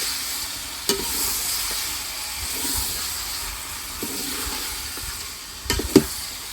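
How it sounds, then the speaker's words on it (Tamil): Chicken sautés in a pan for a village-style chicken curry, a steady loud hiss of frying with a few sharp stirring scrapes near the start and the end, no talking. "சிக்கன் சேர்த்து நல்லா வதக்கலாம்."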